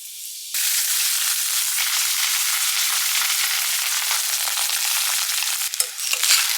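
Ghee and oil for jeera rice bursting into a loud, bright hiss as something hits the hot pan, then a steady close sizzle that carries on with a few clatters near the end.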